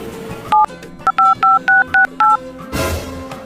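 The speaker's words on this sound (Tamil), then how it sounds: "எங்க அம்மா கால் பண்றேன்." Telephone keypad tones from dialing a phone, seven short evenly spaced beeps in a quick sequence, then a brief rustling burst, loud and near over faint background noise.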